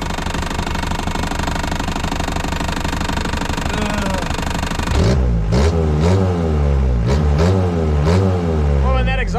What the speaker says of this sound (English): when that exhaust quits rattling, it doesn't sound so bad